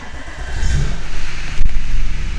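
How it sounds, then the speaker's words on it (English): A car engine turning over and catching, then running with a low, rough idle and a brief swell of revs partway through, heard close inside the vehicle. "if I turn the engine on"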